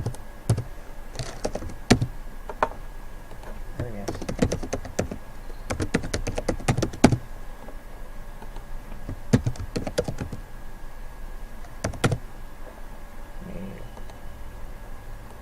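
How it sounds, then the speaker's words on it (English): Typing on a computer keyboard while entering a new student's record into school software, with irregular clusters of close key taps and pauses between bursts. "let's type here new student, say the Castro"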